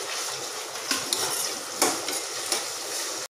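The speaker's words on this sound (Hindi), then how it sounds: "इसके साथ ही हम दो कटे हुए टमाटर डाल देंगे और एक से दो हरी मिर्च भी कटी हुई डाल देंगे" Chopped tomatoes and green chillies fry in a pan, with a continuous sizzle under clinks and scrapes of a spoon stirring against the metal, close and steady.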